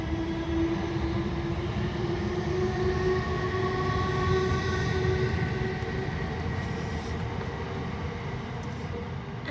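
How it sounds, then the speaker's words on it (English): A train rumbles steadily past close by for the whole stretch, a loud continuous rolling roar with a faint sustained tone running through it, no voices over it. "Oh God, I can hear another train."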